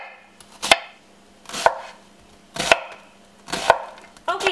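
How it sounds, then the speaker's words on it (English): A knife chops through an onion on a board in four evenly spaced, crisp thunks about a second apart, close and clear, with a faint hum between strokes. "So the very first thing I'm going to do is cut up my onion."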